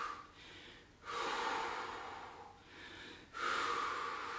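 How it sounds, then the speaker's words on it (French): Forceful exhalations during a cardio workout, close to the mic. Two long breathy blows each rise sharply and then fade, with softer inhaling between them. "Soufflez 2 fois plus longtemps que vous n'inspirez."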